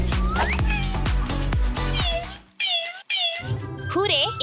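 A cartoon cat meows several times in a children's animated superhero story, its rising cries mixed with music and sound effects while characters speak around it.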